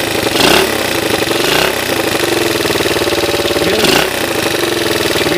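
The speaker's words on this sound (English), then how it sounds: "I got a little bit of little valve noise, but she sounds great." A Honda XR80 motorcycle engine idles steadily up close with a slight valve tick, its loud continuous rumble swelling briefly in a few short blips.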